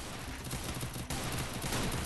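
Dense, continuous gunfire from a shotgun in the Free Fire shooter game, loud and unbroken across the whole moment, with no talking over it.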